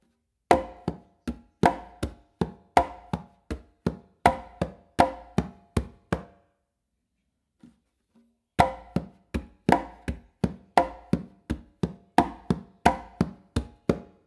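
Congas played slowly in a clave independence exercise: evenly spaced hand strikes ring out in a steady pattern, pause for a couple of seconds with a faint touch, then resume the same slow rhythm, close and alone.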